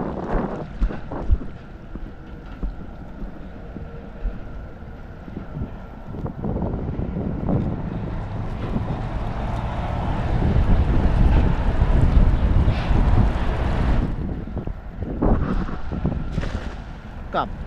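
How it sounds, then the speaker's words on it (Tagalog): Strong wind gusts buffet the microphone on a boat at sea, with rushing bursts that swell and fade, a low engine-like rumble underneath, and occasional people talking. "Lakas ng hangin."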